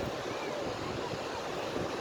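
Sea waves wash steadily onto an Egyptian beach in a continuous, loud rush of surf mixed with wind noise buffeting the microphone, with no distinct breaks between swells.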